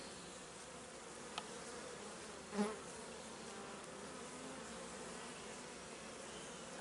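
Honeybees buzz steadily at a hive entrance as the colony brings in heavy loads of pollen, a soft, continuous drone with one or two brief, louder passes as a bee flies close.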